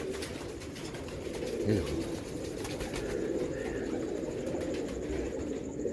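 Pigeons cooing faintly in an indoor loft, a low murmur beneath a brief spoken remark and ongoing background noise.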